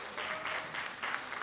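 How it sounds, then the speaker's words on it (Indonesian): A church camp congregation claps together in steady, sustained applause, a dense wash of hand claps that swells in waves across the whole moment with no talking over it. "Beri tepuk tangan kepada Tuhan kita."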